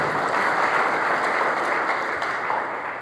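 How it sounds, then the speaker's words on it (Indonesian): A church congregation applauds during an Indonesian sermon, a dense, steady wash of clapping that fills the space at a loud, even level throughout. "Beri tepuk tangan terbaik"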